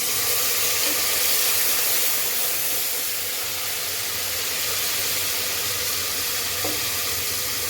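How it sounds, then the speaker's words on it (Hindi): Water poured into a pan of frying ginger, garlic and green chillies for a moong masoor lentil dal gives a steady, loud hiss and sizzle of steam that holds evenly for several seconds, with no talking. "अब इसमें मैं थोड़ा सा पानी ऐड करूँगी।"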